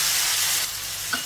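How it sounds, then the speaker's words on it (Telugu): Bottle gourd and tomato pieces sizzle steadily in a hot pan while being stirred, a close, continuous frying hiss with a faint scrape near the end. "ఇంకా ఇప్పుడు ఒక 4-5 నిమిషాలు ఇలా కలుపుకుంటూ ఫ్రై చేసేసుకోవాలి."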